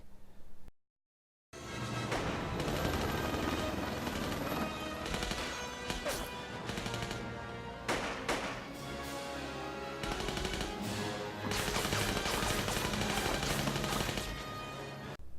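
Dense, loud gunfire with heavy explosions and crashing bursts from the James Bond film The World Is Not Enough, nearly continuous after a brief silence at the start, with rapid volleys throughout.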